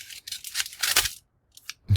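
Scissors cut open the top of a mail package in a few quick, close snipping and slicing bursts, then a short pause and a final faint snip, with no talking.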